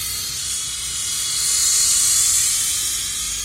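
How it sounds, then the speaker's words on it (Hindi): A small two-channel remote-control toy helicopter flies indoors with a steady high-pitched whirring hiss from its rotors, swelling slightly midway as it passes closer. "तो फिलहाल इस हेलीकॉप्टर को फ्लाई करने में कोई दिक्कत नहीं है"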